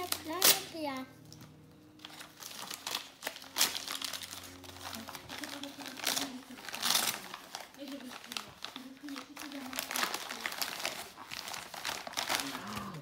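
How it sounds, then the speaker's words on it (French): Gift wrapping paper on a parcel rips and crinkles loudly in repeated tugs while a child and adults chatter close by. "déchirer le papier"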